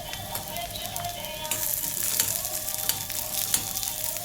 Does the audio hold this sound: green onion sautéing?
yes